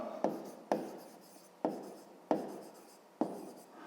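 Pen writing on paper during a fifth-grade geometry lesson, heard as five separate scratchy strokes at regular intervals, each starting sharply and fading, close and clear with no talking.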